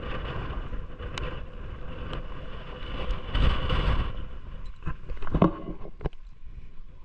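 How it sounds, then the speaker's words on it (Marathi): Strong wind buffets a microphone on a foggy hilltop at Machal hill station near Lanja, Ratnagiri, during a bike ride, a continuous rough rumble with louder gusts rising and falling and no speech. "आज जर जास्तच वारा आहे हा बघा"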